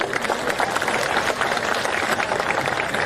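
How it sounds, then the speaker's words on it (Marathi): A crowd at a political rally in Vengurla claps in sustained, dense applause, a steady even roar of many hands that continues through the whole stretch without pause. "तर स्वतःसाठी खरंच एकदा खडखडीत टाळ्या वाजवा."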